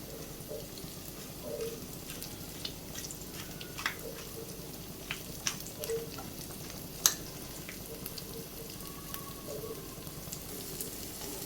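Egg frying in a pan under a sprinkle of chilli flakes and pepper, a quiet, even sizzle with faint crackles and pops spread across the stretch, close and soft with no talking.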